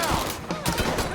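Rapid gunfire bursts erupt in a Mafia III shootout, loud and close, with shots overlapping into a dense fusillade and a brief gap between volleys.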